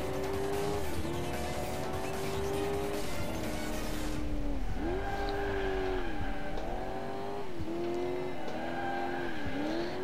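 A car in the driving game Alarm für Cobra 11 Highway Nights revs and drifts, its engine whining up and down steadily over repeated tire squeals and skids, loud and continuous throughout.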